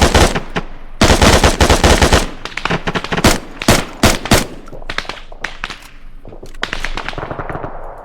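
Automatic gunfire rips through a military video game night operation, loud repeated bursts of machine-gun rounds with sharp cracks and short pauses between volleys, no voices over it.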